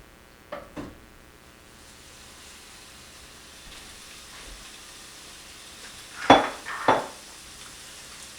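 Over a pound of chopped sweet Italian sausage browns in a hot pan with a soft steady sizzle, broken by a few sharp utensil clinks and scrapes against the pan, near and without talk.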